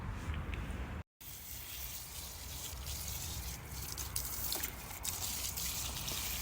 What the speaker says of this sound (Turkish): Süzme işlemine devam ediyoruz. Bu şekilde sularını alıyoruz.